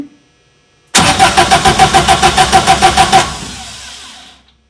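A Subaru engine swapped into a VW Bus cranks over loudly on the starter for about two seconds, a steady rapid chug of even pulses that stops without catching and fades into a brief whir.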